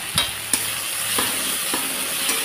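Chilli paste and turmeric stirred in a frying pan, a soft continuous sizzle broken by a few scraping spatula strokes, close and alone with no talk.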